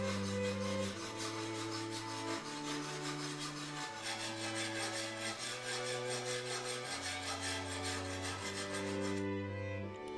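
A file is drawn along a forged steel Kabab Barg knife blade in a steady, rhythmic rasping that runs under sustained background music with slowly changing chords.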